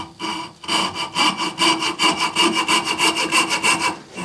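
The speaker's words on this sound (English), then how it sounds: "a coping saw, the teeth point toward the handle, just the opposite of a hacksaw, and that allows you to make this cross cut" A coping saw cutting across a workpiece with its teeth pointing toward the handle, giving a steady run of quick rasping back-and-forth strokes, close up and alone with no voices.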